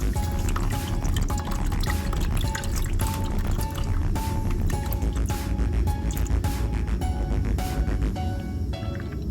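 Engine oil drains from a Honda Civic after the drain bolt comes out, a steady pouring splash into a pan with a constant trickling, dripping texture that runs without a break.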